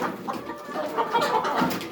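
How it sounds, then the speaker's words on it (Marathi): A rooster of a pure native village breed clucks in short repeated bursts, fairly close, with faint poultry-farm background noise. "प्युअर अशी ही कोंबड्याची जात आहे"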